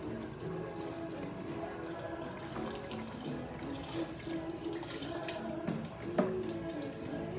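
Beef stock is poured over vegetables in a pot, a soft continuous splashing and trickle of liquid, fairly faint and close, with a brief louder splash near the end and no talking.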